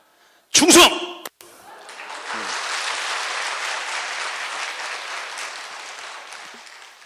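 Audience applause from a seated church crowd rises as a sustained wash of clapping, with a loud close burst of noise at the start, then steady clapping that tails off gradually over several seconds.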